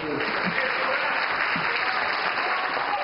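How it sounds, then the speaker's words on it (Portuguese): Brazilian press members applaud a football star at the Granja Comary training centre, a dense steady wash of clapping throughout with faint voices beneath. "O craque aplaudido pela imprensa brasileira."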